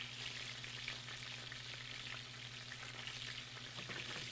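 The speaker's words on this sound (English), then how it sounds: "That butter is bubbling" Butter and orange marmalade melting and bubbling in a skillet for a chipotle chicken glaze, giving a steady, soft, continuous sizzle with faint crackles and a low hum underneath, no talking.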